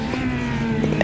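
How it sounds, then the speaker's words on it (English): A slow car in a racing video game passes by during a league race, its engine giving a steady droning hum at moderate volume with no voices over it. "we hear a slow car"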